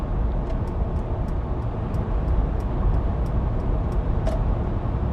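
A constant low roar of road noise fills the cabin of a Mercedes EQV on Falcon winter tires, a dense steady rumble with faint ticks and clicks scattered above it.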